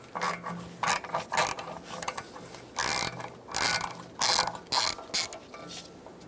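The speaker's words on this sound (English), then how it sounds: "Using a T30 bit, remove the bolt for the ABS sensor." Ratchet driving a T30 bit to remove the rear ABS wheel speed sensor bolt on a 2014-2018 Chevrolet Silverado 1500, giving bursts of sharp clicking ratchet strokes in quick runs, close and clear with no talking.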